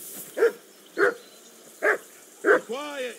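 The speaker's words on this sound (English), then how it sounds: "Do something with that mutt, Henry. It's doing my head in. Call that dog, Henry." A dog barking in the video game Kingdom Come Deliverance II, four evenly spaced sharp barks at close range, followed by a brief whine, over a quiet background.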